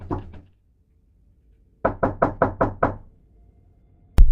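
Knocking on a wooden door for a horror scene: a short burst of raps, a pause, then six evenly spaced loud knocks close by, ending in a sudden sharp burst of noise.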